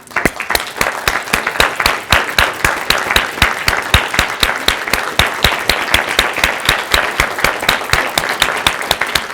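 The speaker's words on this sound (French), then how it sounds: "qu'on vous donne une superbe main d'applaudissement" Audience at a credit union annual general meeting breaking into sustained, loud applause, dense and steady clapping from a large crowd throughout.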